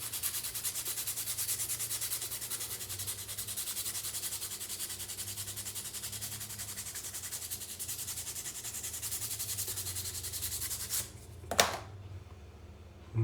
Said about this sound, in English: Do a little more sanding.